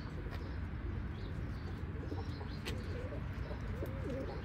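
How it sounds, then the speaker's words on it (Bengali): A male Rampuri pigeon coos softly in a loft, low murmuring calls repeating under steady background noise, with no one talking. "Rampuri mail bird"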